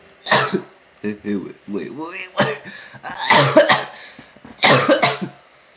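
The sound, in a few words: coughing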